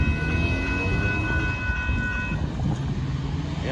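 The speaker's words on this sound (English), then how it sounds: "There goes Amtrak" The Amtrak Texas Eagle passenger train passes close at a road crossing in Austin, Texas, its horn sounding a sustained multi-tone blast before cutting off into rumbling, clattering wheels on the rails.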